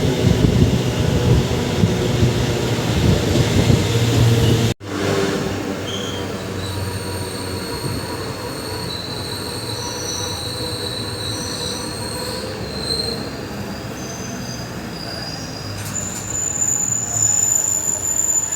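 A Villupuram MEMU passenger train rolls along with loud, sustained wheel squeal and metallic rail noise, then settles into quieter running with high-pitched screeching tones persisting throughout.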